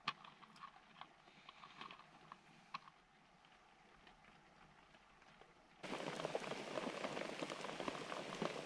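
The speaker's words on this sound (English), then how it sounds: "it's absolutely lashing rain" Heavy rain lashing down outdoors at a badger-watching spot in Ireland, a dense steady hiss that turns markedly louder and closer partway through, with no talking.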